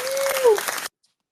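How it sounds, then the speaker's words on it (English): Short applause sound effect played on a podcast, a brief burst of crowd clapping with a tonal swoop through it that cuts off abruptly to silence after under a second. "Let me do like a little round of applause sound effect."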